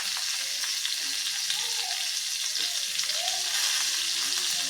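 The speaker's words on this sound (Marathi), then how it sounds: "दोन ते तीन चिरलेल्या हिरव्या मिरच्या घालून घेऊयात दोन ते तीन मिनटं दोन मिनटं परतून घेऊयात" Chopped green chillies sauté in a hot pan for a grated sweet potato dish, giving a steady, bright sizzle that holds evenly at close range with no voices.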